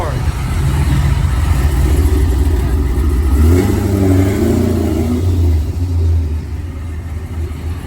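A Honda Civic EK with a B16A engine and new exhaust rumbles and revs steadily, loud and close, with a deep exhaust tone rising and falling, and people talking over it.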